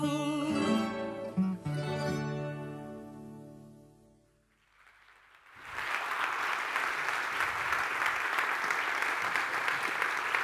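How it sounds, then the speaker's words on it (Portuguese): Audience applause at a public presentation of a national youth plan, breaking out after a sung or musical passage fades, then sustained dense clapping from a large crowd for several seconds. "Eu ia pedir-vos uma salva de palmas, mas adiantaram-se e agradeço-vos por isso."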